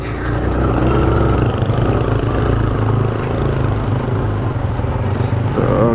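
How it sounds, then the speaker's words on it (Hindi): A motorcycle engine labours steadily up a muddy slope while carrying luggage on a north India tour, loud and close with a continuous mid-pitched drone throughout. "बाइक चढ़ गई"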